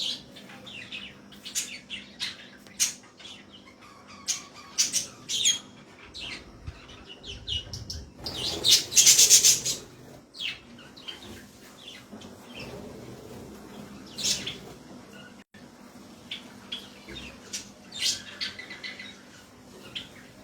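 Birds perched on branches on a sunny day after weeks of rain, giving frequent sharp chirps, tweets and squawks near and far, with a brief burst of louder rustling or wing flapping partway through.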